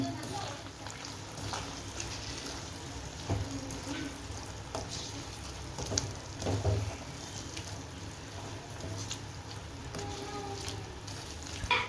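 Potatoes are stirred into a spiced masala in a pan for a beef gravy, with low sizzling and scraping of the spoon running steadily and a few louder stirring knocks.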